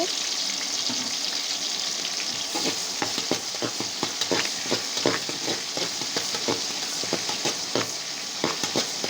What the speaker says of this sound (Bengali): পেঁয়াজ কুচিটাও আমি ভেজে নেবো এটি ভালো মতন আমি একটু লালচে করে ভেজে নিব